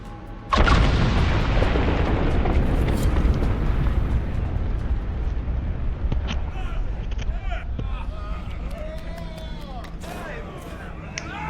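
A loud video game explosion erupts suddenly as a deep booming blast, then rumbles and decays over several seconds while faint game effects continue in the background.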